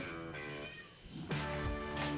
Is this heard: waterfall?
no